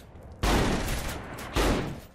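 A shotgun fires in Saints Row 3 Remastered, two heavy booming blasts about a second apart, each followed by a short rumbling decay, loud and close with no talking.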